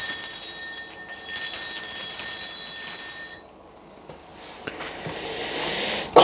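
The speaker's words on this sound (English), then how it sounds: "I'm going to ring this bell here." A handheld bell rung once to cleanse a space, its bright metallic tone ringing out and sustaining for a few seconds before cutting off, followed by quiet handling noise.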